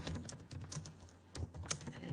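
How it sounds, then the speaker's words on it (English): Computer keyboard typing in a quiet room, a steady run of soft key clicks with occasional louder taps, close by and alone. "Just typing away as you speak."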